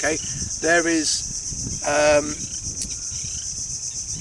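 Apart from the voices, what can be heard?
crickets chirping outdoors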